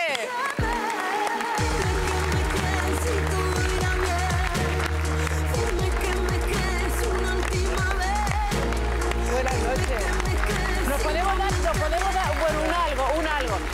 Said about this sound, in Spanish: Un fuerte aplauso para Javier Botet.